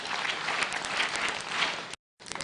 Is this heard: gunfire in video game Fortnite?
no